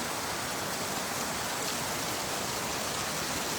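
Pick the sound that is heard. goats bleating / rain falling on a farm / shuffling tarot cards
rain falling on a farm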